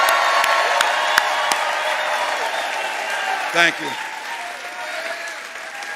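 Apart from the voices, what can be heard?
rally crowd applauding and cheering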